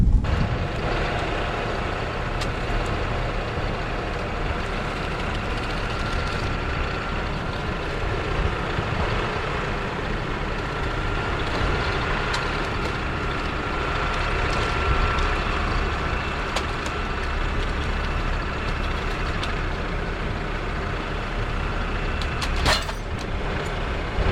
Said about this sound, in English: so I turned the tractor around